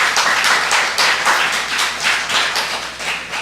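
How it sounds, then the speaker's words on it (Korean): A church congregation claps together in steady, dense applause during a sermon, many hands beating at once for the whole stretch, loud and close with no voices over it. "이 남편 동지들을 위해서 박수 한번 보내주세요."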